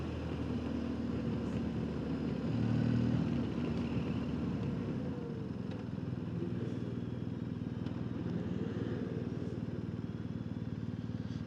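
Motorcycle riding along a road in Tajikistan, its engine a steady, continuous drone with wind rush, holding at a fairly even loudness throughout, with no clear talk.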